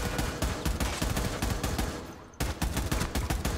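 Rapid bursts of automatic gunfire in the tactical shooter Rainbow Six Siege, loud and close, firing in a steady rhythm with a brief pause near the middle before the shooting resumes.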